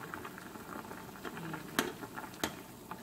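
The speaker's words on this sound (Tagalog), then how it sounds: "Takpan natin and hayaan natin siyang kumulo." Soy sauce braised chicken breast with quail eggs simmers in a pot, a faint steady bubbling patter with a few sharper pops, close by and without talk.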